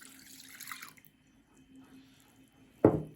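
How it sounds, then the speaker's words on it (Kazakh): A glass of warm milk is poured for lepeshka dough, a short, close, trickling pour that stops after about a second. A quiet pause follows, then a sharp knock or clink. "1 стакан жылы сүт"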